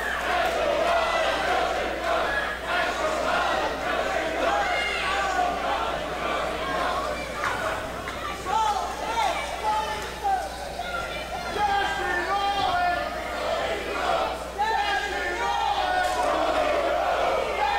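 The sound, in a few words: wrestling arena crowd cheering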